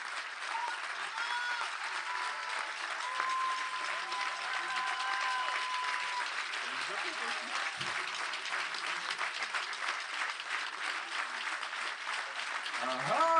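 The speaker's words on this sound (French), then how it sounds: "vous pouvez les applaudir" Sustained applause from an audience at the 2013 Y'a Bon Awards ceremony, dense and steady for the whole stretch, with a few scattered voices rising above it near the end.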